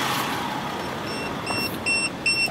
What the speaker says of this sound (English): I can hear it inside my vehicle, the alarm going off.